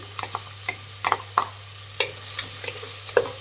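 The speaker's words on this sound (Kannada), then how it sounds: "ಈಗ ಹಸಿಮೆಣಸಿನ್ಕಾಯಿ ಹಾಕ್ಕೊತಾ ಇದ್ದೀನಿ" Green chillies tossed into oil in a frying pan and stirred with a spoon, scattered scraping clinks and brief sizzles over a low steady hum, fairly faint and close.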